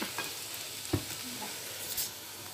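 Oil frying and sizzling in a pan over raised heat while cooking for lasagne, a steady close hiss with a couple of soft stirring knocks, no talking.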